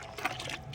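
Water poured into a bucket holding soaked neem cake and mustard cake, a soft, steady splashing trickle close by with a slightly louder burst partway through.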